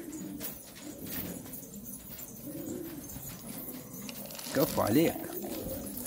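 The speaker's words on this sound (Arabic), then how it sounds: "انا هاي الحمام انا مش حاب اكشها" Pigeons coo in soft, low, repeated calls under a voice, with a louder burst of fluttering and calling near the end.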